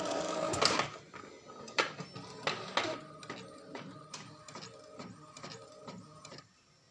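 A printer runs nearby, starting with louder paper-feed clunks and then settling into a rhythmic series of mechanical pulses and whirs that trail off at the end.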